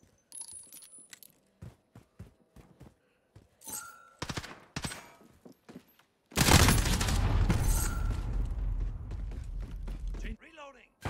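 Weapon magazine change in a video game: a series of sharp metallic clicks and clacks spaced over several seconds, followed by a sustained loud burst of heavy gunfire, with brief voice callouts.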